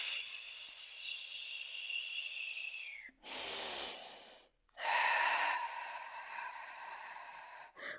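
A person breathes during a Pilates exercise: a long, hissing exhale, then a sharp breath in, followed by another sustained, airy exhale, close and quiet with no talking.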